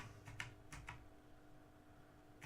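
A few scattered keystrokes on a computer keyboard, quiet and close, with irregular gaps between clicks over a faint background hum.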